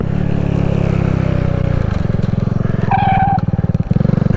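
Motorcycle engine running loudly with a steady rumble that shifts in pitch and rhythm as the bike rolls off the road onto grass, with a brief higher whine and uneven bumps toward the end.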